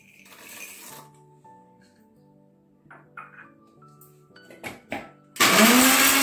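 A kitchen mixer grinder pulses in short bursts, grinding lentils and peanuts for a drumstick-leaf spice powder; brief whirs and rattles build to a loud, sustained grind at the end.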